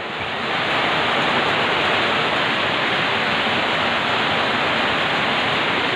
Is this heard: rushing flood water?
yes